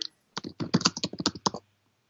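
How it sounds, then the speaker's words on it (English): Someone types on a computer keyboard, a quick close run of crisp key clicks lasting under two seconds before falling silent, with no voices. "is my typing bothering you?"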